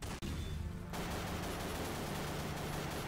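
Rapid bursts of gunfire in the horror video game Paranoia, dense and continuous, filling the whole stretch at loud, close range with a brief dip near the start.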